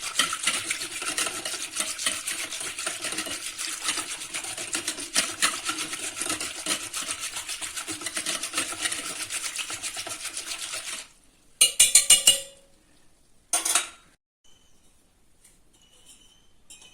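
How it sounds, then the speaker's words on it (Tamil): A whisk stirs curd into buttermilk for amla masala buttermilk, a fast continuous scraping swish in a bowl for about eleven seconds, then a few short clinks and taps before near silence. "தயிராக ஊற்றி விஸ்க் வச்சு கடைஞ்சி விட்டுடலாம்."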